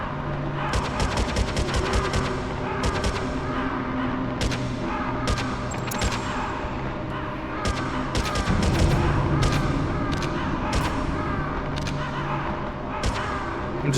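Rapid game gunfire in Metal Gear Solid as ravens circling overhead are shot at: dense, repeated sharp cracks in uneven bursts over a constant loud background, with speech mixed in.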